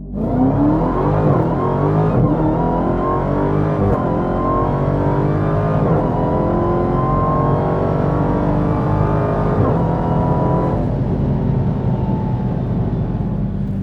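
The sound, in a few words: supercharged muscle car launching, exhaust roar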